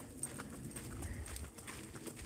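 Hooves of a horse named Rappy clip-clop in a steady rhythm as it is ridden along a trail in Colorado, the thuds close and moderately loud against faint outdoor background.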